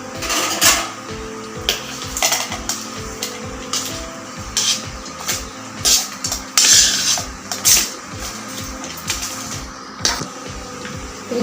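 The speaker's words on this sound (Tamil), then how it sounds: "இது கூட கொஞ்சம் தண்ணி சேர்த்து நைஸாக அரைச்சிக்கோங்க." A mixer grinder grinds sautéed tomato and onion chutney with a little water in its jar, a loud, continuous whirring motor with rhythmic pulsing and rattling from the jar.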